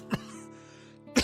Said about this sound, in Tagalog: Kuya, nag-aalala talaga ako dyan sa ubo mo.